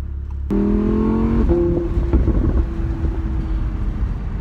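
Yellow Audi R8 Spyder engine revving: a sharp start into a loud, droning engine note with a brief climbing rev, then a steady held tone that settles into a rougher idle.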